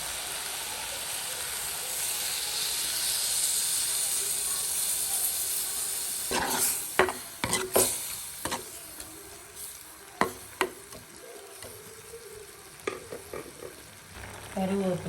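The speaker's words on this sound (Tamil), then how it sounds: "இப்போ வந்து தேங்காய் பால் விடுவோம் தேங்காய் பால் விடுவோம்" Coconut milk goes into a Jaffna beetroot curry on the stove, giving a steady close sizzle and bubbling hiss, followed by several sharp clinks and scrapes of a spoon stirring the pot.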